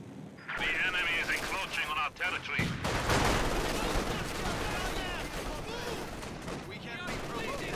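Rapid machine gun bursts rattle through a strategy video game battle, long sustained strings of shots mixed with explosions, while a commentator talks over the fighting.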